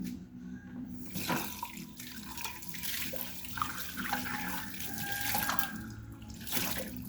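Water flowing strongly from a tap in a house under construction, a continuous hissing gush with splashing and faint clanks throughout, fairly close.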